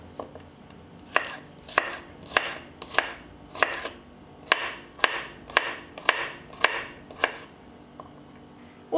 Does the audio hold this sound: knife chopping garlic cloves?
yes